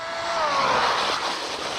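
Traxxas Maxx RC car screaming at full throttle outdoors, a loud high electric whine rising in pitch with tires scrabbling and squealing on a loose surface, continuous and close.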